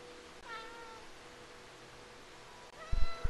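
Cat meows inside the video game Stray, a couple of short tonal mews rising over a soft ambient game backdrop, fairly faint, followed by a few low thumps near the end.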